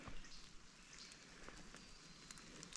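Soft, steady rain patters through the trees of a forest near Yamnuska, Alberta, a dense hiss of drops with a few louder taps standing out nearby.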